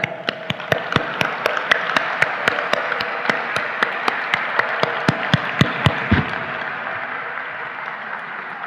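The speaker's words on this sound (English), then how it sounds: "Let's get warmed up with a round of applause for all of you and your work." Audience applause fills a banquet hall at the 2023 Pulitzer Prize dinner, a dense, steady roll of clapping with sharp individual claps standing out, sustained for several seconds before tapering off.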